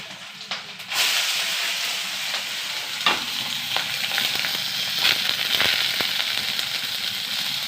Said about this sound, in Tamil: ஓகே இதையும் கொஞ்சம் நல்லா வறுத்துக்கலாம். ப்ரௌன் கலரில் வர்ற வரைக்கும் நல்லா வறுத்துக்கணும்.